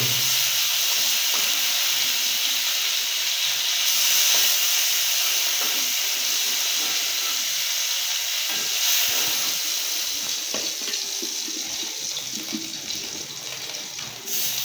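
Prawns and eggs frying in a wok over a stove, a loud steady sizzling hiss with crackling spatter that runs continuously and eases slightly toward the end, with no talk.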